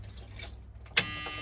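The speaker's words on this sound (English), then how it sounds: "Turn the ignition on, please" Keys jangle as a key turns in the ignition of an old Ford truck with a 460 motor, two sharp metallic clinks close by against a quiet, faint background hum.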